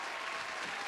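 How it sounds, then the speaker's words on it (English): A short burst of studio applause on a BBC Radio London show greets a live guest, a steady, even wash of clapping at moderate volume. "So please join me giving a huge round of applause for the one and only LEA KAY"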